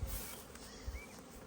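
Honey bees swarm around their hives on a cool spring day, giving a faint, steady buzzing drone with a few louder passes as individual bees fly near.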